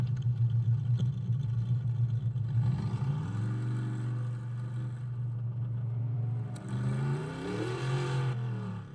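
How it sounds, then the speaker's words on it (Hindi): A deep car exhaust with a simulated V8 sound mod idles, then revs up twice with rising pitch, settling back between bursts, close and fairly loud. "अब देख रहे हो हमारी गाड़ी की जो है एग्जॉस्ट साउंड जो है"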